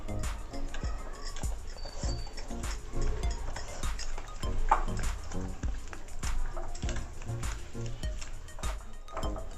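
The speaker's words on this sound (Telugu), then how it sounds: "నెయ్యి పౌడర్ షుగర్ మొత్తం బాగా మంచిగా కలిసేటట్టు పేస్ట్ లాగా అయ్యేటట్టు కలుపుకోవాలి" A spoon stirs melted ghee and powdered sugar into a paste in a bowl for eggless coconut biscuits. Repeated clinks and scrapes sound against the bowl at a steady stirring rhythm, close up and moderately quiet.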